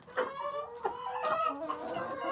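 Chickens on a village farm clucking busily while being fed, several close, overlapping calls in a continuous chatter with no voices.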